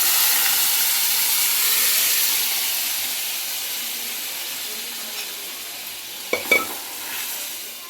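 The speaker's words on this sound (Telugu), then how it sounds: "చూడండి కలిపేస్తున్నా." Spinach dal (puntikura pappu) being stirred in a pan after tempering, a steady soft sizzle and scraping wash with a couple of sharper knocks near the end, no talking.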